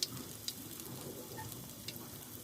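Hilancha greens fritters (bora) sizzle in lightly heated oil, a faint, steady crackling fry with a few soft pops, close by and with no talking.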